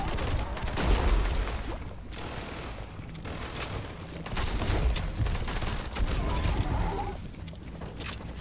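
Rapid-fire gunfire from a weapon in the game Starfield: dense, crackling bursts of shots that stop and restart in short volleys, loud and continuous, with clattering mechanical noise between the bursts.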